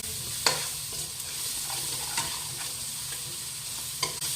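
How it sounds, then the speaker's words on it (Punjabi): Chopped tomatoes sizzle steadily in a hot pan as they are fried down, with a constant close hiss broken by a few sharp scraping knocks of a spoon stirring them, and no voices. "ਆਪਾਂ ਇਹਦੇ ਵਿੱਚ ਪਾ ਦਵਾਂਗੇ ਟਮਾਟਰ ਇਹਨੂੰ ਵੀ ਆਪਾਂ ਨਾ 1-2 ਮਿੰਟ ਦਾ ਨਾ ਚੰਗੀ ਤਰ੍ਹਾਂ ਸੇਕ ਲਵਾਵਾਂਗੇ"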